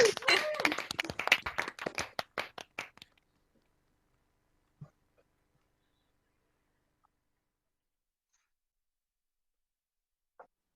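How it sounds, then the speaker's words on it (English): A group of medical pharmacology graduates unmute on a video call and clap together for a few seconds. The scattered applause with some voices fades quickly into near silence, broken only by a couple of faint isolated taps. "I now warmly welcome you to unmute yourselves and cheer and clap for each other"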